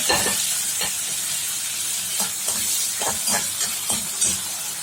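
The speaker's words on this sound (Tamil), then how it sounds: "அதில் வந்து ஆனியன் கொஞ்சமாக, இந்த தக்காளியை வதக்கிக்கலாம் லைட்டாக எண்ணெயில்" Onion and tomato sauté lightly in oil in a kadai, a continuous close frying hiss punctuated by repeated soft scraping strokes of a spatula against the pan.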